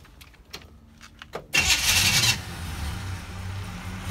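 A 1967 Chevelle Malibu station wagon engine starts: a few faint clicks and taps, then a loud burst of cranking that catches and settles into a steady, quieter running rumble close by.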